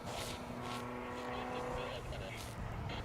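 A Volkswagen Beetle rally car on a gravel rally stage drives with a steady, rough engine drone and road noise throughout, fairly distant and unbroken.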